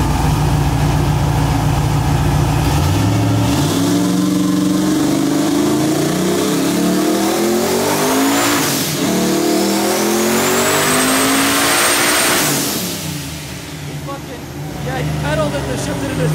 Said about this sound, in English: we're gonna do like a small little first or second gear rip just to see how it does